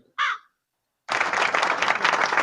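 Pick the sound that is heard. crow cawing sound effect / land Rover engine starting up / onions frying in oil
crow cawing sound effect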